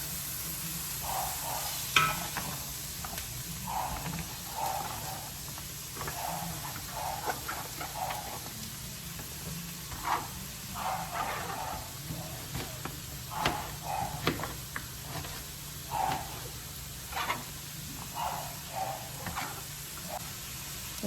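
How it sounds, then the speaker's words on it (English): Turnips sautéing in a pan for turnip greens, a steady low sizzle with soft scraping stirs and occasional clinks of a utensil against the pan, close and moderately quiet, no talking. "I'm going to throw in my turnips and start sauteing those until ready to get added."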